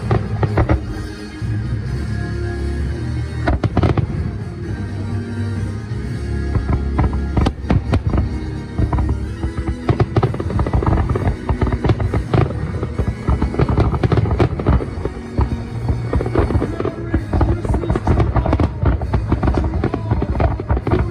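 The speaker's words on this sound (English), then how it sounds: "watch the fireworks that happen during weekends at" Fireworks burst over the bay at SeaWorld San Diego's Christmas Celebration, a dense, loud run of booms and crackling pops that continues for about twenty seconds with no talking.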